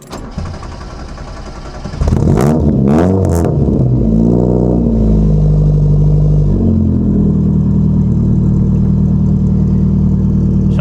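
A Ford Escort MK3 engine cranks and catches, then revs loudly up and down several times before settling into a rough, close-up idle.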